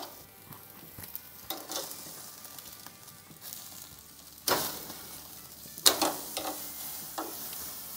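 Beef chuck steaks searing in a hot pan for beef stew, with a steady close sizzle and hiss that swells into louder crackling bursts when the meat is moved or turned.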